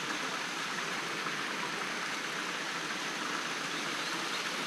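A river stream in St Joseph, Maracas rushes steadily, a dense, continuous wash of flowing water close by with no voices over it.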